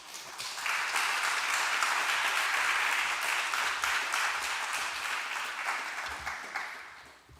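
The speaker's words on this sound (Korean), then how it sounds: "우리 목사님 나오실 때 우리 큰 박수로 환영해 주셨으면 좋겠습니다." A church congregation applauds to welcome the pastor, a sustained wash of clapping that swells quickly, holds steady, then tapers off near the end.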